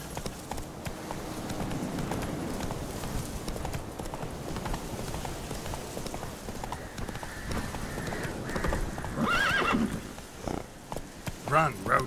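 Roach, a horse in The Witcher 3: Wild Hunt, gallops in steady rhythmic hoofbeats for the whole stretch, with a short whinny near the end and a voice talking over part of it.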